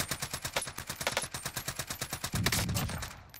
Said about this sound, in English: Hey guys, new assault rifle